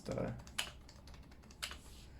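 Quiet, close keystrokes on a Yui660c mechanical keyboard tap out a few scattered clicks with a thocky character, with faint speech at the start.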